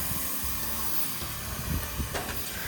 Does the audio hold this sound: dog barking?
no